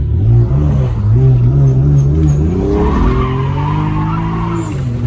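A BMW 335i with the N54 engine drifts around a corner, tires skidding and squealing loudly and continuously as the engine drones close by, with no talk.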